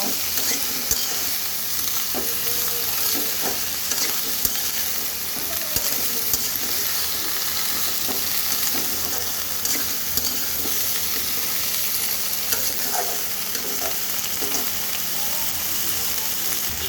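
Tengra fish and mustard greens with green chilies frying in a pan, a continuous close sizzle with scattered scraping and clinking as everything is stirred together.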